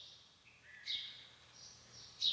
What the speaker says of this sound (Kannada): ಏನು ಕೇಳಿಸ್ತದಂದ್ರೆ ಬರೀ ಪಕ್ಷಿಗಳು ಮಾತಾಡೋದು ಕೇಳಿಸ್ತದೆ